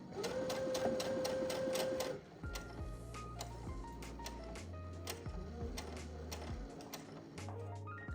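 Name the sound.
sewing machine stitching a puff quilt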